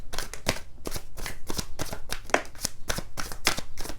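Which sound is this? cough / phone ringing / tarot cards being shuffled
tarot cards being shuffled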